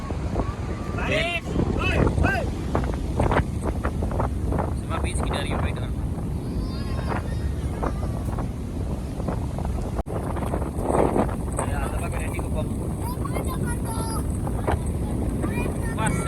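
Stormy sea during a cyclone, with crashing waves and strong wind roaring steadily against the microphone, loud and close throughout, while a person speaks over it.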